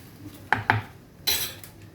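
A metal spoon scrapes and clinks against a bowl while stirring a spiced minced-meat kofta mixture, with two sharp taps followed by a longer scraping stir, close by and without speech.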